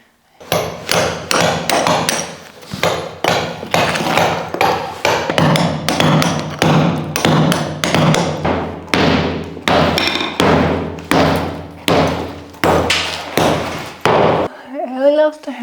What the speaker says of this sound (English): she could hammer away through the entire foundation